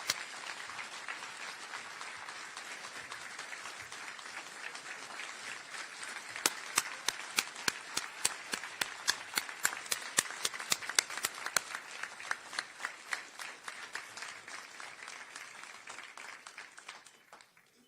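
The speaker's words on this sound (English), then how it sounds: "Please give them a big round of applause." An audience applauds the Harris County Sheriff's Office dive team at a first responders' honors ceremony, steady crowd clapping with a burst of sharp, loud individual claps in the middle before fading out at the end.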